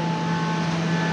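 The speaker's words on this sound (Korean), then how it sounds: "여기는 콤프레셔가 있는 곳입니다." Air compressors run in a factory in Cambodia, making a loud, close, continuous mechanical drone with a steady tonal hum and no break.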